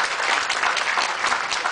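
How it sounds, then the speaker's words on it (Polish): Steady crowd applause at a trophy presentation during the 4th Janusz Kulig and Marian Bublewicz Memorial rally event, dense and continuous throughout, with no voices over it. "Wszyscy brawo."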